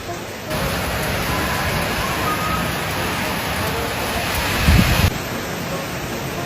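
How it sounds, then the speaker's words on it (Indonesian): Rain falls steadily on a street in Indonesia, a dense, even hiss of downpour that holds at the same level throughout, with a brief louder patch of splashing near the end. "Astaga, hujan lagi."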